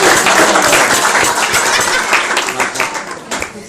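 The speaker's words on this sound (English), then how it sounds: "So another round of applause." Wedding guests at a reception applaud during the speeches, a loud, dense burst of clapping from a crowd that thins out toward the end.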